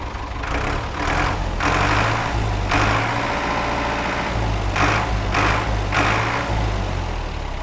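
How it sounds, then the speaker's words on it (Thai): A used Ford 5000 tractor's diesel engine running steadily at idle, a loud, close, continuous low chugging drone with occasional rises in revs and no talk over it. "โอเคมาเปิดดูลองเล่นเครื่องให้ดูหน่อย"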